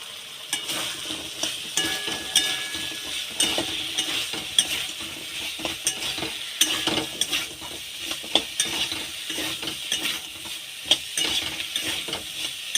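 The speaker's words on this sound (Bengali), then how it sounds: "এইবার কেটে রাখা সজনে ডাঁটা দিয়ে আরেকটু ভালো করে কষিয়ে নেব।" Drumstick (moringa) pieces stir-fried in oil-released masala in a pan for a potato-drumstick curry: continuous sizzling frying with repeated scraping stir strokes and occasional utensil clinks, steady and close throughout.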